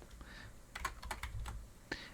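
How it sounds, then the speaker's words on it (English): Computer keyboard keys are tapped in quick, uneven bursts while copy and paste shortcuts are used, close up and fairly quiet, with several sharp clicks in a row. "I will then use my favorite keys on the keyboard once again and copy and paste this"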